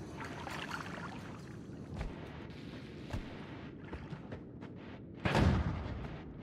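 An explosion in the video game Noita, a short burst of crackling noise rising above a busy, hissing game soundscape with scattered thuds and pops, moderately loud, no talking.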